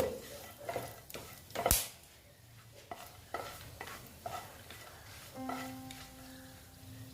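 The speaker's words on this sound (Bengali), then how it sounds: "এটা আমি একটু ভেজে নিচ্ছি" Whole garam masala spices frying in a pan, with quiet sizzling and a series of stirring scrapes and taps at irregular intervals, including one sharp clank.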